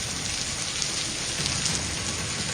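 Heavy monsoon rainfall around Kolhapur: a steady, dense hiss of rain pelting surfaces with scattered drop patter, constant and moderately loud, no voices.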